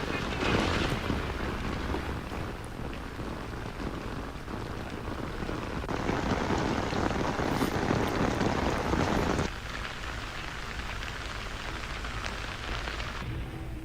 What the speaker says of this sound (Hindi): श्रीनगर और वादी कश्मीर के कुछ दूसरे हिस्सों में सुबह से बारिश हो रही है।